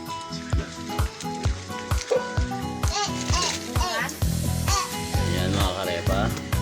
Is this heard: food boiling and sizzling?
yes